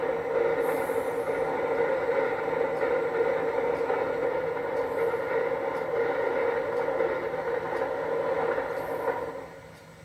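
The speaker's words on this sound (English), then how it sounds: "Several locomotives idle in the yard as a northbound train highballs past on the main line" A Florida East Coast Railroad train passes on the main line near a yard of idling locomotives, giving a steady, moderately loud mechanical rumble with faint periodic clicks that fades at the end.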